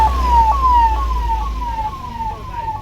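Ambulance siren on the Amarnath Yatra pilgrimage route, a repeating falling wail sweeping down about every half second, fairly prominent over a low steady rumble of road or engine noise.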